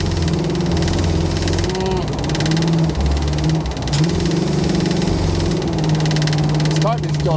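The engine of a 1977 Chevy Monte Carlo with its timing still off runs under load while driving in third gear, a loud close rumbling drone with slight pitch shifts, and a voice is heard over it.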